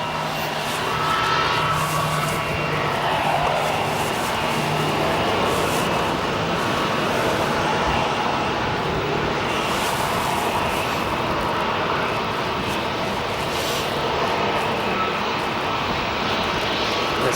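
Airliners taxi in a long line at O'Hare airport, their engines giving a steady, broad roar and whine that holds at a constant level throughout, heard from a distance with no voices.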